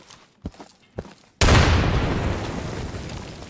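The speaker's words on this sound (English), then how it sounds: "Yeah, throw a frag in there." A frag grenade detonates in the shooter game Insurgency: a single loud, sudden blast with a long rumbling decay, preceded by a few quiet footsteps and clicks.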